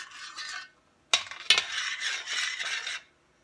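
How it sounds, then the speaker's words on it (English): Metal spoon scraping and stirring inside a pot of hot fudge with butter, a steady broadband scratching in bursts with two sharp clanks midway, close and fairly loud, no voices. "Sorry about the scratching sound in my pan or my pot"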